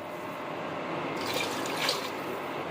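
Water is poured into a cooking pot of curd, onion, tomato, garam masala and ginger-garlic paste for aloo chicken, a steady splashing stream that swells briefly near the middle, with no talking.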